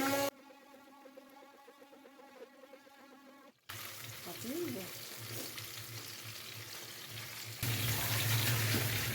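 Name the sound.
fish pieces frying in a pan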